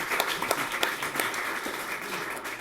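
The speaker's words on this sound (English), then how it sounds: "give yourself a round of applause" An audience at a talk gives a short round of applause, light scattered clapping heard at moderate distance for a couple of seconds.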